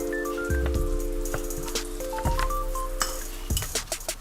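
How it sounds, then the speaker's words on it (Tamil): Flour being stirred into hot sugar syrup in a pan for Mysore pak, heard as soft scraping and a few light clinks of a spoon against the pan, close and steady, with no voices over it. "மெதுவாக இதை கலக்கி விடலாம்"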